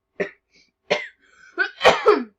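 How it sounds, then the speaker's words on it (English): A person coughs in a quiet room: three or four short, sharp, close bursts with brief pauses between them, ending in a louder double cough. "I was just coughing"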